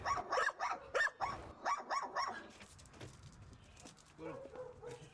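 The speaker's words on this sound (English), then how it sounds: "The dogs sound the same as they did when I was about" Several dogs bark in quick, loud bursts close by at a rural home, then fade to softer yips and whimpers, with faint voices underneath.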